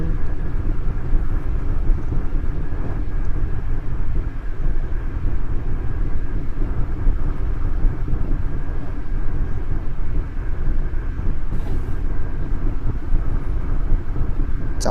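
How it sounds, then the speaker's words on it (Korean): A train runs through a station at speed in the BVE5 train simulator game on an airport express line, a steady loud low rumble with constant rail noise lasting the whole stretch and no talk over it. "열차 통과"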